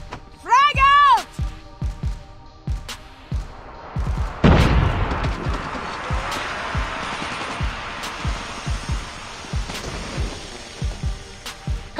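A frag grenade bursts with a loud boom midway through a Call of Duty Mobile firefight, surrounded by rapid repeated gunshots and thuds, and an in-game voice calls out over the action.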